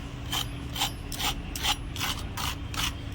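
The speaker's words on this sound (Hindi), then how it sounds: "देखा आपने, आवाज़ सुना कितना क्रंची बनता है।" Crispy fried chicken barfi kabab is bitten and chewed close to the mic, making about seven rhythmic crunches in a row against a faint background hum, with no talking.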